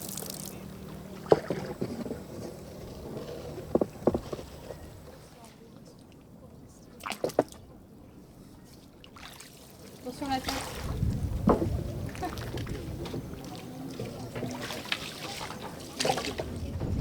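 Outdoors among mangroves in Senegal, a boat glides quietly without a motor, with faint water splashes and knocks, occasional wind rumble and people talking.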